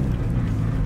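A VW Voyage car engine gives a brief, dense low rumble while accelerating. The sound is close and fairly loud, with no voices.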